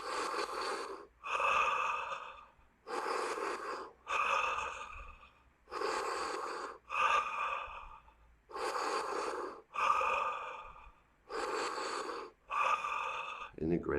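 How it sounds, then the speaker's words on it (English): Rhythmic, forceful breath-of-fire yoga exhales pulsing close and loud in quick bursts, about one to two per second in steady groups through a morning breathing practice, with no talking over them. "Breath of fire, exhale."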